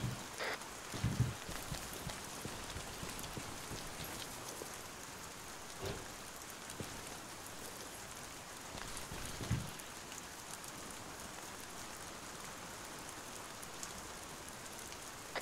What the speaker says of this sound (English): Tell them to cut off the rain.